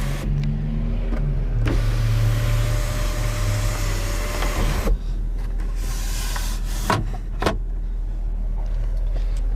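Sunroof on a 2017 Buick Enclave AWD sliding open by one-touch automatic control, a steady electric motor whir with a rising tone that runs a few seconds, then stops with a soft clunk and a couple of clicks.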